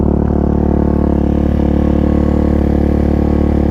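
A Suzuki DRZ400 motorcycle engine idles high at about 4,300 RPM with a steady, loud, even drone. It holds unchanged throughout, and no one speaks.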